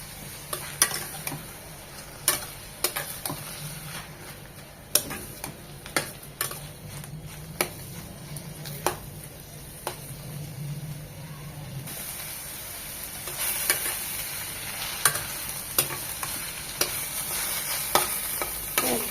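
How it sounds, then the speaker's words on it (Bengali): Botta (bantwa) greens fry in a pan and are stirred repeatedly, with a soft continuous sizzle broken by regular scraping strokes of the spatula that grow busier toward the end. "শুধু নেড়েচেড়ে একদম ভাজা ভাজা করে নেব।"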